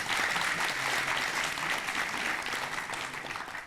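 An audience at a National Assembly forum on a special law for landlocked Chungbuk and inland regions claps in a dense, sustained round of applause that fades slightly toward the end.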